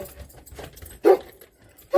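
Puppies outside on a quiet nature morning, with two short, sharp barks standing out against faint background rustling, one midway and one at the very end.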